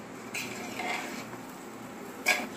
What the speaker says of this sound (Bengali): আমি চাল ডালগুলোকে আবার নেড়ে দিচ্ছি।